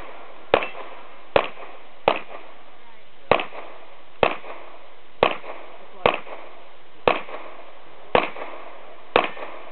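Gunshots at steel targets: ten sharp, loud cracks spaced about a second apart, each with a brief ringing decay, and no voices.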